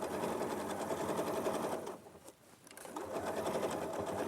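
A sewing machine runs a steady, continuous stitching drone while sewing an overlapped fabric seam; the motor briefly slows and dips quiet midway, then picks back up to full speed. Nearby and loud, with no talking.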